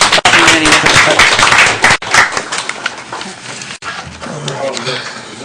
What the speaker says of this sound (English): We'll clap again